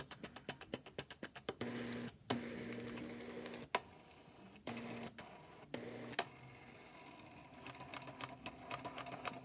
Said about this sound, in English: This is a Commodore 1520 plotter.